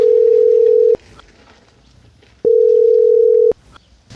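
Telephone ringback tone on an outgoing call, two long steady beeps with a silent gap between them, loud and clear with faint background noise.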